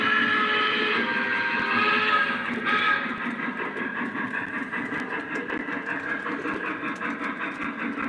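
An O scale model train runs steadily with a continuous whirring, rattling hum, loud and close, with no talking.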